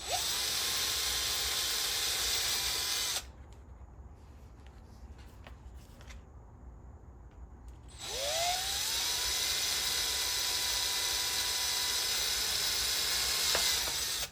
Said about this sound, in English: I like to drill the back side just to keep it nice and clean.